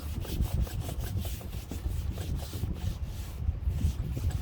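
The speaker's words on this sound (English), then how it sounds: "you come back and sand it all off. You want to sand it, you want to sand it smooth" Sandpaper rubbing in steady back-and-forth strokes over an oak cabinet being sanded smooth for a paint finish; close, even and rhythmic, with no talk.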